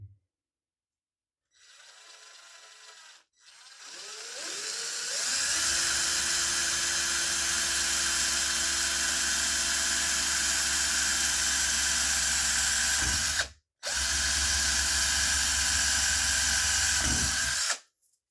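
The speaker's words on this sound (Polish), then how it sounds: "I wiercimy." A small power drill with a small bit whines in short bursts, then runs steadily at a high pitch for several seconds, stops briefly, and resumes.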